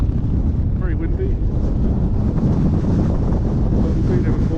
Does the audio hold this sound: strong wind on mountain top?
yes